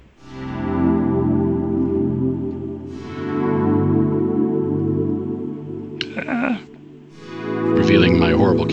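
A synthesizer keyboard plays a Pigments patch: loud, sustained harmonic chords swell and fade, followed by brighter, shorter buzzy notes near the end.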